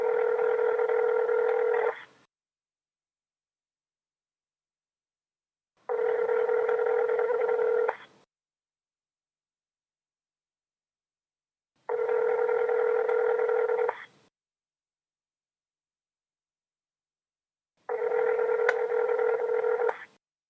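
Electronic telephone tones heard while placing a call, four steady two-second tones separated by about four seconds of silence, clear and alone.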